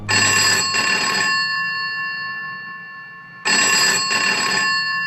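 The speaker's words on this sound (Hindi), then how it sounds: "वो नहा ही रहा था कि उसके कमरे का फोन बजा।" A telephone rings loudly in two bursts of bright, trilling bells separated by a short pause, with no voices.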